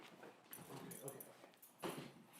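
A dog whimpers and barks faintly through a noisy indoor background, with a brief louder yelp near the end.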